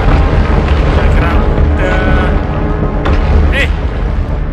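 A planet-shattering explosion in the video game Planet Alpha: a heavy, continuous low rumble with boom-like swells that fills the whole stretch, loud and close, with no clear break.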